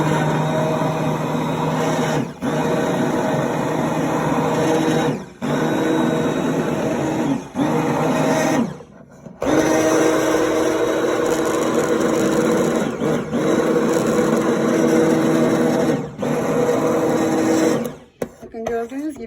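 Kitchen blender pureeing tomatoes for a winter tomato preserve, running with a steady loud whir interrupted by several brief pauses, ending with a couple of short stops.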